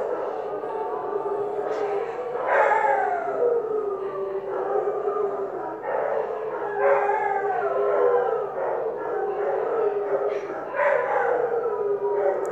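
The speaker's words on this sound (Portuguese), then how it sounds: "Vamos esperar eles parar de uivar." A pack of dogs howls together in long, overlapping rising and falling wails, loud and sustained, with several voices layered at once.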